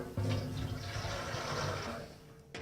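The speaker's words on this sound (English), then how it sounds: "we're going to put some water in here." Water pouring into a drum for a gas laws demonstration, a steady rushing, splashing flow lasting a couple of seconds before tapering off, ending in a brief clatter.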